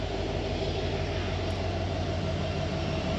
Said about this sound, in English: you got the trains right there too, so it's gonna be like really loud